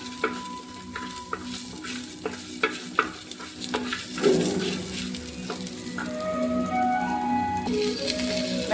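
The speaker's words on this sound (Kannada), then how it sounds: "ಫ್ರೈ ಆಗ್ತಾ ಇದೆ." Food fries in a pan with a steady close sizzle and a string of sharp spoon scrapes and taps against the metal, louder clatter midway, then a hissing fry continues alone.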